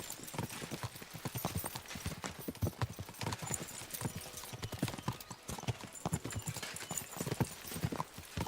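Horse hooves clip-clop in Kingdom Come: Deliverance II, a brisk, steady rhythm of close hoofbeats with faint creaks and ambient noise behind them.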